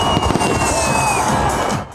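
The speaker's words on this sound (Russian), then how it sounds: "А вечерний салют – завершающий подарок для всех жителей Заполярья" Dense crackling bursts of an evening fireworks display at a Miners' Day celebration in the Arctic, loud and continuous, with a faint crowd murmur beneath.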